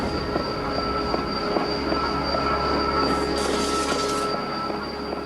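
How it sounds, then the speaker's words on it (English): Early steam train running along rails at speed, a steady loud rumble with repeated rhythmic wheel clicks and a brief high metallic squeal partway through, no voices. "The engine set off at its utmost speed"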